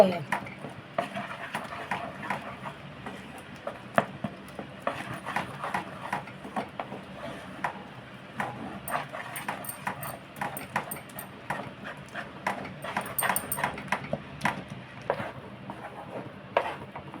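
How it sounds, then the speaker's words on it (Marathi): Ghee is stirred into a thick mango-pulp mixture for traditional sanjapoli while lumps are broken up, giving repeated soft scraping and clinking of a spoon against the pan with a voice talking throughout. "आता ह्या गुठळ्या मोडत मोडत तुमका सगळा मिक्स करू"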